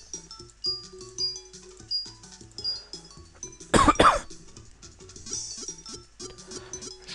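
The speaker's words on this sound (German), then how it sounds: "Entschuldigung fürs Husten." A person with a cold gives one loud, close burst of coughing midway through, over soft beeping melodic game music from Pokémon HeartGold.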